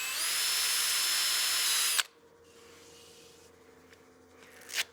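A wooden bowl spinning on a lathe is sanded with 180 grit paper, giving a loud, steady broadband hiss for about two seconds that cuts off abruptly, leaving a quieter rumble of the lathe and a short scrape near the end.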